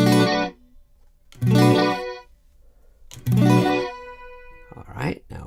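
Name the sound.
chord played through reverb effect with diffusion at minimum, iPad FAC Alteza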